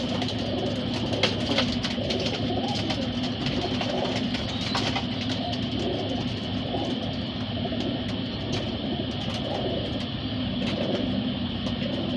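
Pigeons coo softly near their traps, low rolling calls repeating over a constant background hum and occasional passing car noise.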